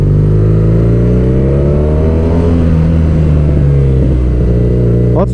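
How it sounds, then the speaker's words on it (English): A BMW R nineT boxer twin motorcycle engine revs loudly and close, a deep steady exhaust drone that rises and falls in pitch through a long rev, with one sharp blip near the end. "BMW has one of the best stock sounding exhausts that I've ever heard"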